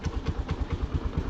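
A motorcycle engine that had run out of fuel catches and runs in a steady, rhythmic put-put idle, close by and moderately loud, with no talking.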